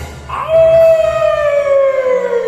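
A wolf howl in a live children's stage show rises and holds as one long, loud, sustained wail that slowly slides downward, standing alone over a low background hum.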